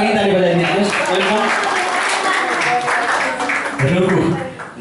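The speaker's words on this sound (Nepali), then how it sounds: "घरको लागि ताली बजाइदिनुहोस्" Steady audience applause fills a live Nepali folk concert in Japan, with a voice speaking over the clapping throughout.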